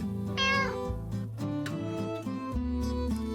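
A cat meows in the Under Maintenance video game, a short clear cry over steady game music with no talk.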